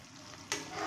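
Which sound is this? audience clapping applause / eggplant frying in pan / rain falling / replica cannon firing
eggplant frying in pan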